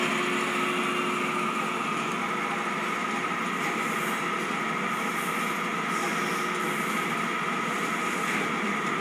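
An electric motor running under increasing load in a lab setting, making a steady, dense whine and hum that holds evenly throughout without speech.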